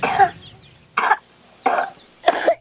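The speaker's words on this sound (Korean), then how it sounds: "마치 합창이라도 하듯 여기저기서 터져나오는 기침소리." Children cough in four separate bursts, some with a throaty rasp, close by on a cold night at a remote lakeside home, with short quiet gaps between them.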